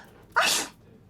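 A single sharp sneeze from a character in a murder mystery video game set in the Alps, short and close, alone against a quiet background.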